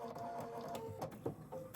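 A sewing machine stitching at a short stitch length, a fast, close whirring run of needle strokes with brief pauses, quiet and alone.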